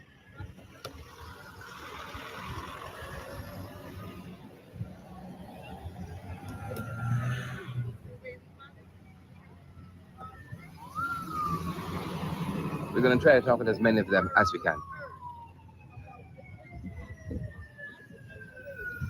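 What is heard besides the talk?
emergency vehicle sirens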